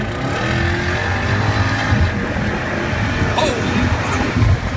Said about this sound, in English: And the Jaguar has some of the best sounds in the business.